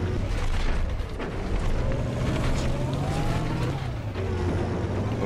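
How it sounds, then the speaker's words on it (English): A tank rumbles closer in a video game battle, a loud, continuous low engine drone with a grinding mechanical whine that holds steady throughout. "Oh shit, that's a tank."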